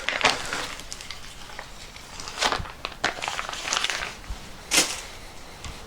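Protective film and greasy oil-coated wrapping being peeled off new Pepe rolling mills, with soft crinkling and scratchy peeling bursts, close and fairly quiet, with no talking.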